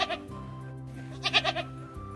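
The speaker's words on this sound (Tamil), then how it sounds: "ஆடு கத்தும்," A goat bleats twice, a short wavering cry at the start and a longer quavering bleat in the middle, close and clear over a faint steady hum.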